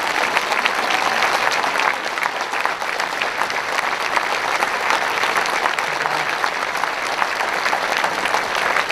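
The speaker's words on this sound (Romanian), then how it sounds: "Aplauze încă o dată, doamnelor și domnilor." Sustained applause from a concert audience for the George Enescu National University of Arts orchestra in Iași, a dense, steady wash of clapping that holds at even loudness throughout.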